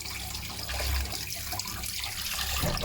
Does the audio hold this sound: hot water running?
yes